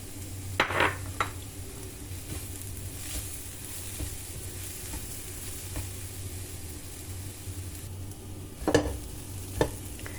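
Cauliflower fried rice with egg is stir-fried in a pan, a faint, low sizzle broken by a few sharp scrapes and knocks of the spatula against the pan.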